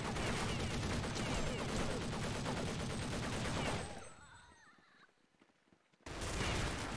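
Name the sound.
gunfire from a video game, Counter-Strike Nexon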